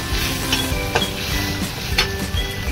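Soaked chana dal stir-fried in oil after roasted green chillies, a constant sizzle under a few scraping clinks of the spoon against the pan, close and fairly even.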